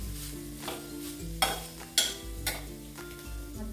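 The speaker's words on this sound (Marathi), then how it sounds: "मध्यम आचेवर आपल्याला हा नारळ थोडा आधी परतून घ्यायचा आहे" Grated coconut stirred and roasted in ghee in a pan for fried modak filling, a few distinct spoon scrapes over a faint, steady sizzle with low background hum.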